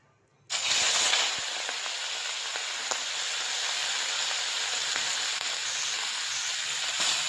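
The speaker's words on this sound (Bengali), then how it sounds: "এবারে চিংড়ি মাছটা আমি ভেজে নেব" Prawns coated in salt and turmeric drop into hot oil in a wok, and after a brief silence a sudden steady hiss of frying starts and holds evenly at close range.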